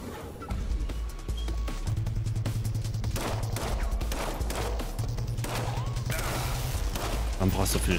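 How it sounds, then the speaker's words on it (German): Gunfire from the video game System Shock Remake, sharp repeated shots and impacts in irregular bursts over droning game sounds, with a player talking intermittently underneath. "Schüsse."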